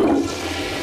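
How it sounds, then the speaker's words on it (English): A toilet flushes in a brief, loud rush of water that quickly settles into a steady swirling drain, close by and without talk. "Please don't flush anything for a while."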